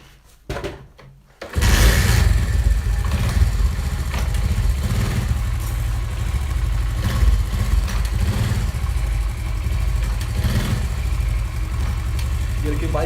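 A motorcycle clutch and gear adjustment test: after a short quiet start, the bike's engine fires up and idles steadily and loudly close by, with the rider shifting into and out of gear and faint talk over the running engine.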